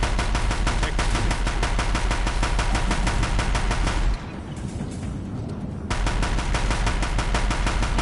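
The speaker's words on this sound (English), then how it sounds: "Deathbringers keep firing, this bridge will grow" Deathbringer guns in the Horizon video game fire in a dense, loud, rapid rhythm, a near-constant hammering of shots that briefly drops to a low rumble before the barrage resumes at full force.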